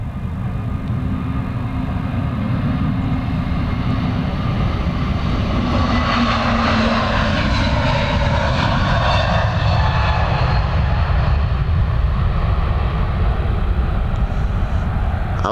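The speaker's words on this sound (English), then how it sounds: "It's A321neo, operated by Air Transat." Air Transat Airbus A321neo jet passes overhead, a loud steady roar with rising and falling whine as it flies by, heard alone without talk.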